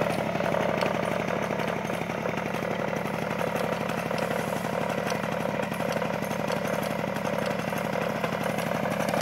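A Peugeot 103 SPX moped's small two-stroke engine runs steadily at a fast idle, a close, buzzing, even rattle that continues unchanged throughout, with no voices.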